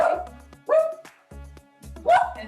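Outdoors, a dog gives three sharp, close barks spaced roughly a second apart, with quiet low rumble between them.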